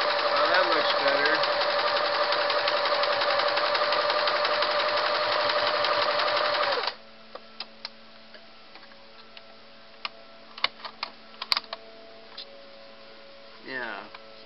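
A Singer Model 353 Genie sewing machine runs a satin stitch as a fast, steady mechanical whir with rhythmic ticking for about seven seconds, then stops, leaving faint clicks and handling noises.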